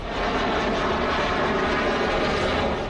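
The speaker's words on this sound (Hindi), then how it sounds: "राफेल की आवाज दुश्मन को कंपाने वाली है" A Rafale fighter jet flies overhead with a steady, loud, broadband roar that holds unbroken for the whole moment.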